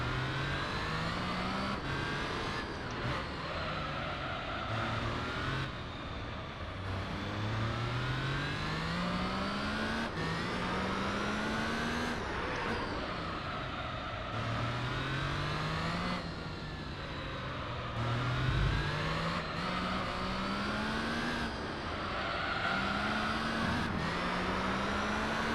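A Suzuki Escudo Pikes Peak race car in Gran Turismo 3 roars continuously, its engine climbing through repeated rising revs with quick gear changes, loud and sustained throughout without any voices.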